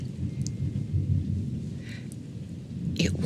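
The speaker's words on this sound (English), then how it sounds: "We have another thundering, rainy day going on right now." Low thunder rumbles through a rainy summer storm, a continuous deep roll lasting throughout with steady rain hiss and a few brief higher crackles, no voices present.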